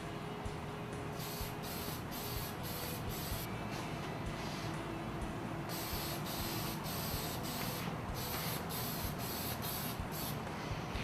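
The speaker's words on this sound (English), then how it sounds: "the next step is to apply the final stage, which is the top coat satin clear coat" Spraying a satin clear top coat, the final stage of a hydrographic camo dipping kit finish on a gun, as a steady hiss of spray bursts repeating in close, even passes.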